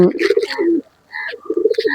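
Racing pigeons cooing close by in soft, rolling low coos, two bursts separated by a brief pause, with faint chirps above.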